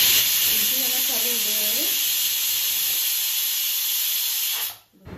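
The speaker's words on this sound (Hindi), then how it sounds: "यहाँ पे कुकर की सीटी भी आने वाली है" A loud, continuous steam hiss whistles from a kitchen pressure cooker, with someone speaking Hindi briefly underneath before the hiss cuts off abruptly.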